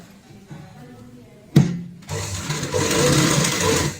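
A sewing machine stitches a ladies' purse made from old cloth, starting with a few short bursts and a sharp knock, then settling into a continuous, close, whirring run of stitching.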